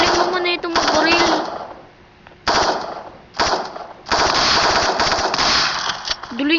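Video game gunfire: bursts of rapid machine-gun fire, loud and close, coming in several long volleys separated by brief pauses, with someone talking in between.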